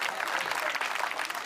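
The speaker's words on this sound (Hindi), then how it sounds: "तो एक बार आप लोग बुलडोजर जैसी तालियां मुझे एहसास करा दीजिए।" An audience at a Hindi comic poetry gathering, a hasya kavi sammelan, claps in a dense, steady burst of applause that fills the whole brief moment.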